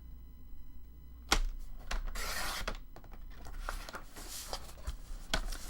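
Paper being cut into 6x6 pieces for a square envelope folio, with sharp snips and rustling slides of the sheet, a few distinct cuts standing out over quiet handling noise.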